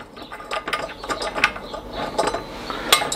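Tightening the clutch drum roller on a Solex 3800 engine, a run of quick ratcheting clicks in short uneven bursts, close and fairly crisp with no talking.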